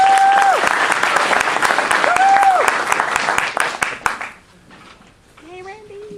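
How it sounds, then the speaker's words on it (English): An audience at a Lacey Rotary Club annual meeting claps warmly in a room for about four seconds, then the applause quickly fades and a few voices speak briefly. "Give a round of applause."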